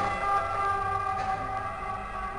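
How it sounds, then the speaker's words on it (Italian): An ambulance siren sounds outside as a steady, tonal wail, fairly faint and continuous with no speech over it. "E vai con l'ambulanza!"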